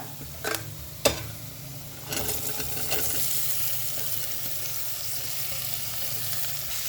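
Ivy gourd drops into hot oil and starts frying: a couple of sharp clatters, then a loud, steady sizzle that continues close by with light stirring sounds.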